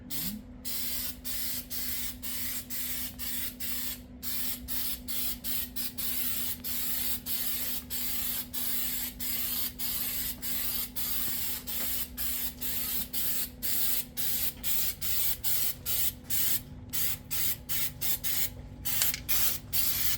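Spray paint from an aerosol can, bought at Harbor Freight, hisses onto the trunk of a 1951 Chevy Styleline in steady close bursts, broken by short pauses, with a faint hum beneath.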